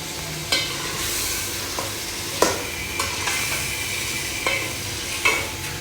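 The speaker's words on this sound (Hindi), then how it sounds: "ये देखिए जी माशाल्लाह से हमारे आलू जो है थोड़ी देर के लिए भुनेंगे" Potatoes with a little black pepper fry in a pan for a spinach and potato dish. A soft, steady sizzle is broken by sharp, irregular clinks as a spoon stirs against the pan, about one every second.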